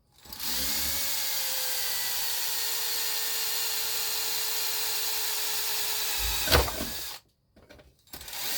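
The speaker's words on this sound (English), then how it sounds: "So I'll just drill these two other holes." A power drill whines steadily and close for several seconds as it bores holes in a scratch-built Tamiya model truck trailer chassis frame, then stops with a brief clunk before falling quiet.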